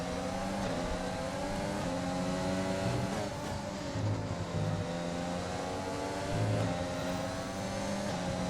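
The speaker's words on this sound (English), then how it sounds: "you can hear that we've still got the old onboard engine sounds" Formula 1 car engines in an F1 2020 racing game replay at Bahrain, a loud whining engine drone with rising and falling revs and shifting pitch, heard from an off-board camera view.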